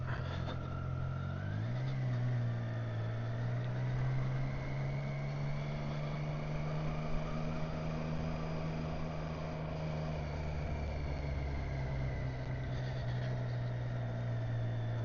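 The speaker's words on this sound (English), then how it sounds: "the engine on this bike sounds absolutely fantastic." A motorcycle engine drones steadily while riding, its pitch dipping then climbing and holding through a long, even run, heard close and moderately quiet under steady wind rush.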